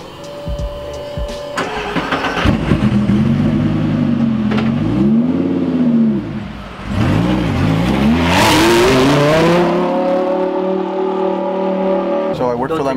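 A Lamborghini engine, known for shooting flames from its exhaust, revs hard and close, its loud, steady roar sweeping up and down through repeated throttle blips before settling into a high, sustained drone.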